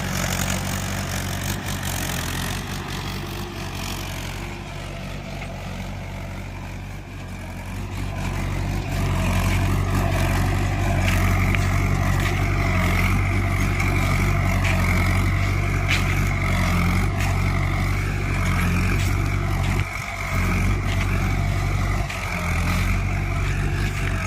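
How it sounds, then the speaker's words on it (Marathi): Mahindra 585 DI tractor on 14-9-28 tyres driving across a farm field and over a bund, its engine a steady low drone that swells louder after the first few seconds and holds, with no talking. "ट्रॅक्टरचा टायर आहे 14-9-28 आणि ट्रॅक्टर सहज चालतोय"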